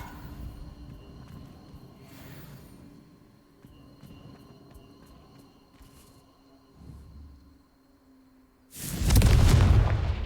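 A Confringo fire spell explodes in the Hogwarts Legacy video game, landing as a sudden loud booming blast near the end after a stretch of low rumbling ambience and scattered effects.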